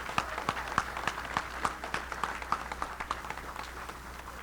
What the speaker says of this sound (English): Again, let's give them a round of applause.